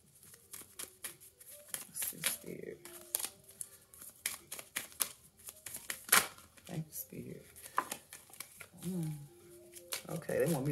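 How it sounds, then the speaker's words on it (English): A tarot card deck is shuffled by hand, producing faint, quick riffling and soft card-slapping bursts scattered through the clip, with a voice speaking intermittently between them. "Okay, they want me to shuffle these things up, child."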